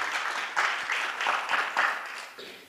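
A church congregation claps as an offering of praise during a service. The applause is moderately loud and comes in uneven, pulsing bursts that ease off at the end.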